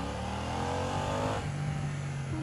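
A motorcycle engine revs in first gear to about 3,000 rpm, a steady close drone that rises, then settles into a lower note, loud with no voices.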